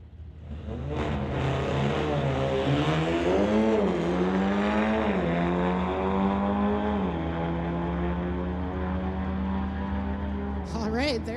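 Street-legal cars, including a 2017 Audi S3 and a 2022 BMW, roar down a drag strip with engines revving hard through rising gear pulls, loud and sustained, while an announcer talks over the noise.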